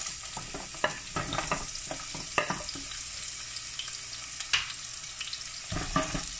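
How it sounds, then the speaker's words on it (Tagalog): Onion sautéing in cooking oil for pork rib sinigang, a steady bright sizzle broken by frequent spatula scrapes and taps against the pan, close and fairly loud, no voices. "At uunahin natin igisa ang kamatis at sibuyas"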